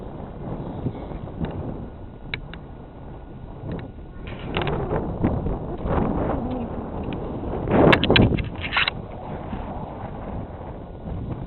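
Strong gusty wind buffets the microphone in loud irregular bursts as an RC DG1000 glider makes fast flybys on a windy day, with a peak of roaring noise near the end.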